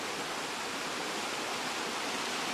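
Creek water flows near a beaver dam, a broad, steady rushing wash that stays even and fairly loud throughout, with no voices.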